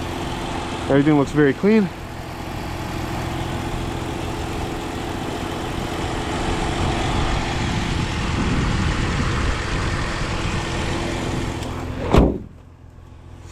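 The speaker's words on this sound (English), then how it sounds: "So here we got our inline-6." A 2006 BMW X3 3.0i's inline-six engine idles steadily, heard up close. A person talks briefly at the start, and a single thump near the end precedes a sudden drop in sound.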